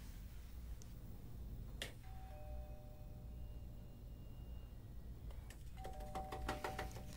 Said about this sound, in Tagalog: Ay, huwag mong pindutin ang doorbell